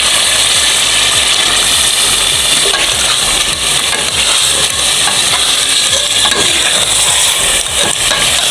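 Boneless chicken, about a kilogram, sizzles and fries loudly in a masala gravy, a dense continuous crackle with scraping stirring underneath, close and steady with no talk.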